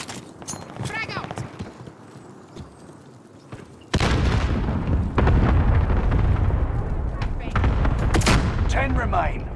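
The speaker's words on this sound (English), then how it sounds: "Bastards are shooting at me!" Bursts of loud gunfire and explosions erupt in a Call of Duty Warzone Pacific match, dense and close after a quieter opening, with a voice shouting over the combat.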